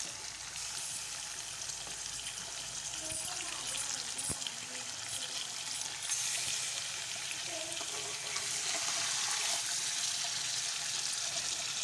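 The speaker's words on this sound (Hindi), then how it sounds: "बाद में थोड़ा सा पानी डाल देते हैं ताकि रोटी से जले ना।" Water poured into a pan of fish curry with cooked masala, a steady broad sizzle and frying hiss with faint stirring clatter, continuous and close, no talk.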